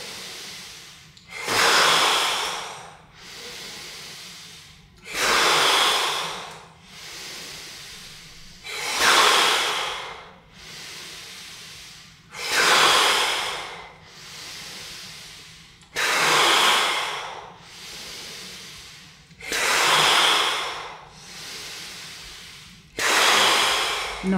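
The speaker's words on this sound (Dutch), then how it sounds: "Snuif in." During a guided breathing exercise, a person takes short sharp sniffs in through the nose, then lets long hissing breaths out, repeating the cycle roughly every three seconds, close up and with no talking.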